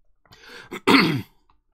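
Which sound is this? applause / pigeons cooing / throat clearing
throat clearing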